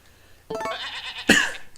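A farm goat in the video game Harvest Moon: A Wonderful Life lets out two loud, close bleats in quick succession, the second sharper than the first, with no talking.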